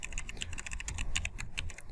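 Rapid typing on a computer keyboard, a steady stream of close, crisp key clicks with no voices, entered while filling in a configuration file for an ASP.NET MVC Core project.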